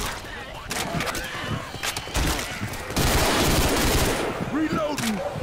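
Rapid, loud gunfire from weapons in Left 4 Dead 2 rattles in dense bursts, building into sustained automatic fire near the end, with no speech over it.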